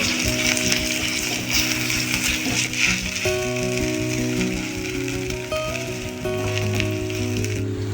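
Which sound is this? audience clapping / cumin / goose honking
cumin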